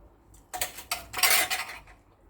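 A fork scrapes and clinks against a plate of butter-topped food, a few sharp metallic taps and scrapes close by, clustered within about a second and a half.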